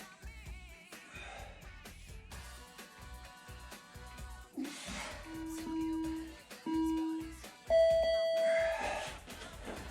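Electronic beeps sound over background music: a few short tones, then a longer, louder final beep.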